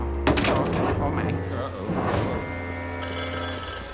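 A telephone rings inside the video game Luigi's Mansion 3, a chiming electronic ring with a bright, sustained tone near the end, heard under a person talking.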